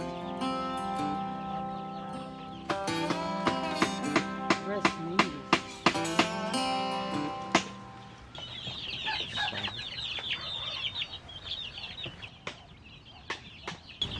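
Hens cluck on a farm raising Sasso chickens, a steady run of close, busy clucks and calls over a musical background that gives way to plainer farmyard clucking and squawks in the second half.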